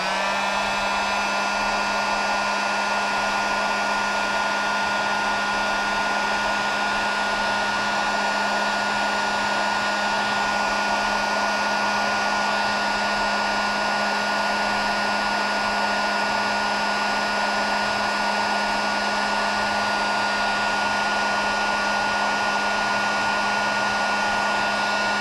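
A heat gun or hair-dryer-style blower warms a swinging head fishing rig before it is dipped in coating, a steady, loud, close whooshing drone with a constant tonal hum, running unbroken for about twenty-five seconds with no talking.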